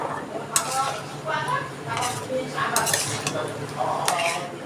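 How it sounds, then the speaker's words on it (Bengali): A pan of chicken for Dhaka-style chicken tehari frying in oil as about a cup of water goes in, with metal spoon scrapes and clinks against the pan over a steady sizzle, close and busy throughout. "এবার সামান্য জল দিয়ে দিচ্ছি। এই 1 কাপের মতো আমি জল দিয়ে দিলাম।"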